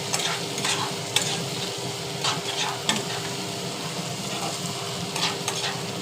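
Onions sizzle steadily in hot oil for aloo dum, with occasional scraping and clinks of a spoon stirring the pan, close up and with no talking.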